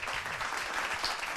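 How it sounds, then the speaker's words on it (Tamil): A stage audience at a Tamil debate competition claps in a dense, steady burst of applause, heard alone and at moderate distance. "பேச பேச அப்படியே கை ஒழி கைத்தட்டல் வந்துக்கிட்டே இருந்தது"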